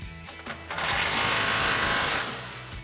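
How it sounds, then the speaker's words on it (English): A pneumatic impact wrench with a 19mm socket tightens a track bar bolt during a Toyota 4Runner suspension lift install, one loud close burst of rapid hammering lasting about a second and a half. "Then we'll use our 19mm socket on our impact and our 19mm wrench."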